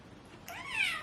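A house cat gives a single rising-and-falling meow, close and clear against a quiet room, lasting under a second.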